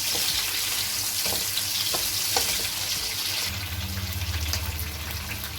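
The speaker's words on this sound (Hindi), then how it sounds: "इनको मैं थोड़ा सा फ्राई करके निकालूंगी ये गार्निश के लिए" Vegetables for a chicken jalfrezi garnish sizzle and crackle steadily in a hot pan, close and continuous, with a few stirring clinks and a brief swell of hissing near the end.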